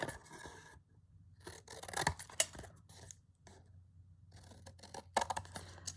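Scissors trimming card and fabric for a Christmas slow-stitch craft project, close crisp snipping and rasping cuts in short clusters separated by brief pauses.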